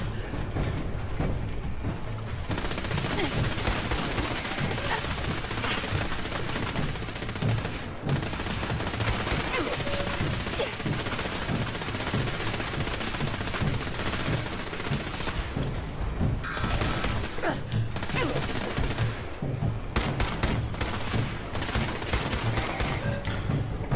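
Hand cannon gunfire in the Fallout 4 video game, dense bursts of rapid shots mixed with clattering mechanical and ratcheting noises, loud and continuous throughout a chaotic fight.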